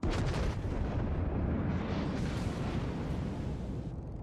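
Heavy ship guns fire in the naval game World of Warships, opening with a loud booming salvo that rolls into a sustained rumbling roar and slowly fades over about four seconds.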